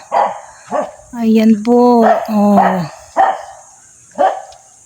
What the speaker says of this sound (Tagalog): Ayan yung aso ko guys, naririnig nyo ba?